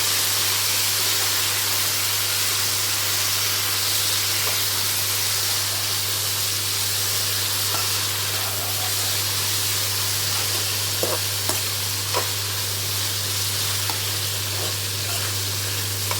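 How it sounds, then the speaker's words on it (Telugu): Curry leaves fry in hot oil, a loud continuous sizzle and spitting hiss throughout with faint scattered pops and a steady low hum beneath. "కరివేపాకు కూడా వేగనివ్వాలి"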